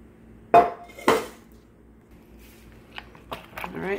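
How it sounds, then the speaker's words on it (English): Tortilla chips being stirred into sauce in a bowl for chilaquiles, with two sharp clattering scrapes of a utensil against the bowl, then softer clinks and wet stirring under a speaking voice. "we're just mixing it, incorporating all those chips into this juicy, most delicious sauce"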